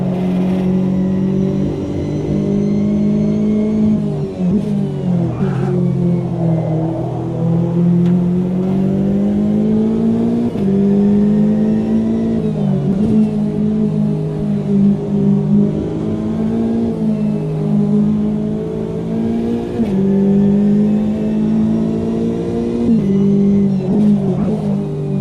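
A Corvette race car in the sim racing game Automobilista 2 drones loudly and steadily for the whole stretch, its engine note rising and falling through gear changes and throttle shifts, close and continuous with no talk.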